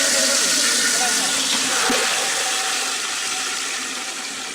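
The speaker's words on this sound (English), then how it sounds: "The pumps and motors are on." Water pumps and motors run at a drinking-water summer storage tank scheme, giving a loud, steady broadband rushing hiss that fades slightly toward the end, with faint voices underneath.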